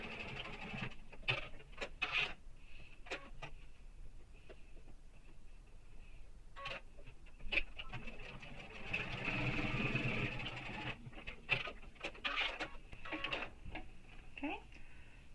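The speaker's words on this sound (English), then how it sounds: "So I'm going to sew that straight edge." A sewing machine stitches a straight edge on a backpack in short rattling bursts with pauses and a longer run midway, close by, with a steady hum behind.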